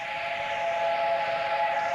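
A steam train whistle holds one steady, sustained tone, fairly loud and alone, with no voices.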